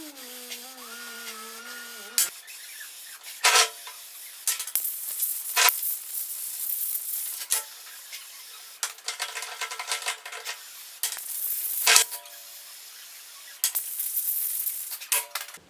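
Brake cleaner hisses in repeated short and longer blasts onto differential gears to strip away oil, with quiet pauses between sprays and a faint tonal hum at the start.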